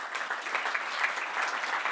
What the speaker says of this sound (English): Should we have a round of applause?